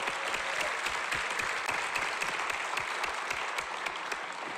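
An audience at a regional educators' awards and scholarship ceremony gives a big round of applause for the honorees, continuous crisp clapping from many hands that stays even from start to finish.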